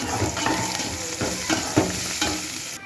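Onions and curry leaves sizzling and frying in oil in a pan, a steady crackling hiss broken by the scrape of a spoon stirring, close and alone.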